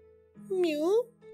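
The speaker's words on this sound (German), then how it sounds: "Katze." A single cat meow from the Omori video game, a short rising-falling tone heard clearly over a quiet background hum.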